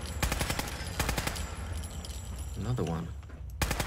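The sprayer weapon fires in Fallout 4, with rapid bursts of gunshots at the start and end and steady game noise between, while someone speaks briefly.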